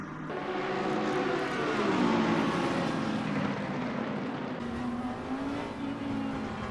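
Race cars revving and pulling away together at the start of an Assetto Corsa Competizione race, a loud steady engine drone rising and shifting in pitch as the pack accelerates.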